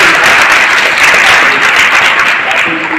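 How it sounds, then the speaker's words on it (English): A classroom of students applauds at an awards session, steady dense clapping filling the whole stretch at a loud, even level with a slight fade at the end. "so clap for yourselves"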